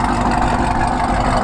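A loud car engine runs steadily at a car meet, a dense low rumble with a rough idle character, close and constant with no talk over it.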